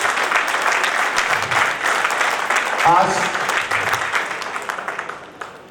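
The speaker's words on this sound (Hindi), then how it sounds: "एक बार जोरदार तालियां अपने लिए, अपने घर वालों के लिए" Audience applause at an indoor training session at Jim Corbett, a steady dense clapping from a crowd that swells and fades over several seconds, with someone speaking briefly over it.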